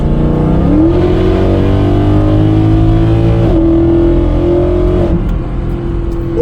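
A Mercedes E63 AMG engine, repaired after a long fault, revs loud and close, its pitch climbing steadily toward 7,500 RPM, holding high, then dropping briefly before rising again with no talk over it.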